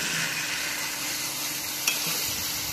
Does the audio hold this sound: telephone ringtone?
no